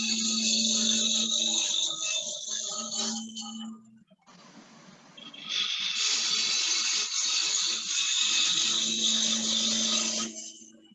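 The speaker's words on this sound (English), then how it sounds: "Now that is a roughing cut if I really hog that wood away." A bowl gouge with an Ellsworth grind hogs wood away in a roughing cut on a wood lathe, a loud continuous whirring scrape that breaks off briefly midway and then resumes as strong as before.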